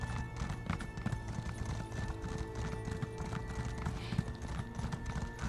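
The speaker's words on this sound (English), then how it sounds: "Hoof sounds" Continuous clip-clop of horse hooves at a quick, steady gallop rhythm in the video game The Elder Scrolls Online, fairly faint, with no voices.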